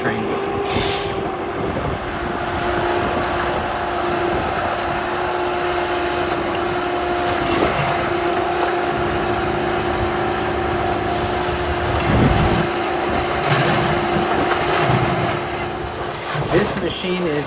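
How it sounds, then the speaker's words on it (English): A Harsco ballast tamper works on railway track, producing a loud, steady mechanical drone with a sustained hum and occasional heavier surges and clanks. "This machine is from Varsco. It's called a ballast timber machine."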